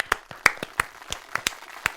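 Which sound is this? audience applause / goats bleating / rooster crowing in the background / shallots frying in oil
audience applause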